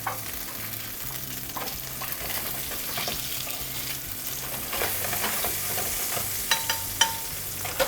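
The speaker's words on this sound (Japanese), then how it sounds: "今ひっくり返してこの表面焼いてます" Zucchini slices sizzle steadily in a pan over medium heat, pressed under a weight, with a continuous close frying hiss and a few sharper crackles and utensil clicks near the end.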